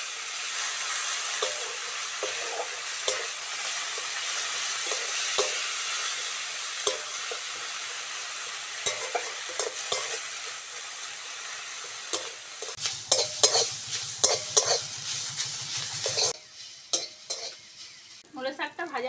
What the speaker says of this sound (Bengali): ফোড়নে শুকনো লঙ্কা দিয়ে মূলো শাকটা ভেজে নাও।